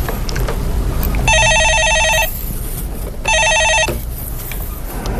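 A telephone rings in two electronic trilling bursts, loud and close, over a background of low studio noise before a caller is answered on a live stock-market call-in broadcast.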